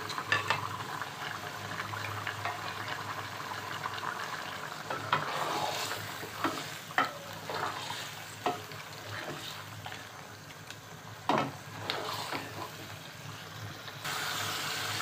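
Chicken and potato curry with whole garam masala frying in a pot, a continuous sizzle broken by repeated scraping and knocking strokes of a stirring spoon, close and moderate in level.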